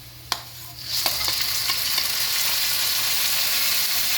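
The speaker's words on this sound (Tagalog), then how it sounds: "Ayan, malambot na yung sibuyas. Lagay na natin yung kamatis." Onion and tomato sauté in a hot pan for pork binagoongan: a steady, loud sizzle swells in about a second in and holds, with the scrape of stirring throughout and no talking.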